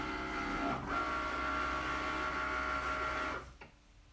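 A Cricut Maker cutting machine runs with a steady, quiet mechanical whir and hum that stops near the end, with no talking.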